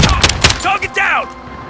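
Rapid gunshots crack out in the Modern Warfare video game, a few sharp bursts up close in the opening second, followed by a short whoosh and game sounds.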